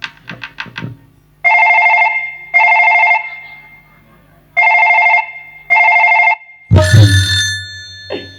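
Loud, close telephone ringing in four electronic bursts with short gaps between them. A few percussive taps come before it, and a crash comes after.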